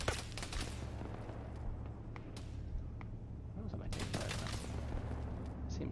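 Gunfire in a video game mission, dense rapid shots in bursts with heavy low booms, loud throughout, with a voice talking over it.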